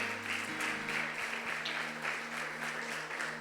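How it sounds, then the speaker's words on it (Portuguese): Church congregation applauding during a sermon, a moderate wash of many hands clapping under a low steady hum, fairly even with slight swells, no clear talk on top. "Aplauda o Senhor Jesus."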